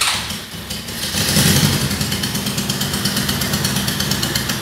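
Engine of a Riva 600 idling unsteadily, a dense continuous rumble with a faintly pulsing, wavering rhythm, close and fairly loud throughout with no talk.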